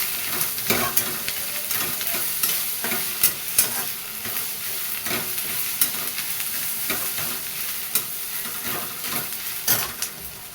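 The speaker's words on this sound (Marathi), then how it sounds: "हे बघा आल्या लसणाची पेस्ट टाकून घेते मी अगोदर वाटल्यात होती परतून घ्यायचं सगळं एकत्र" Ginger garlic paste stir-fried in a pan with onions, giving a steady sizzle broken by repeated scraping strokes of a spoon, close and moderately loud throughout.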